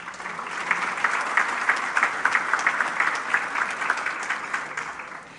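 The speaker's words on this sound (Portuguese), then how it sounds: "mais uma vez eu peço uma salva de palmas aos nossos componentes do Comitê Debatedor" An audience applauds at a debate luncheon, steady dense clapping from many hands in a large room, sustained and fairly even for several seconds.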